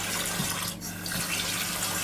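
Tap water running steadily over soaking gun parts in a sink during a weekly gun cleaning, a continuous close hiss with a brief dip partway through.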